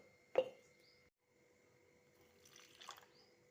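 Water goes into a spiced chutney mixture for aloo paratha filling: a short, soft splash, then a quiet pause and a faint second trickle of pouring.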